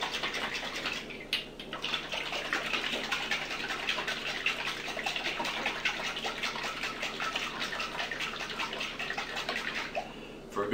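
Homemade salad dressing shaken hard in a screw-cap jar, a steady wet sloshing and rattling that runs continuously for about ten seconds, fairly close and even in loudness.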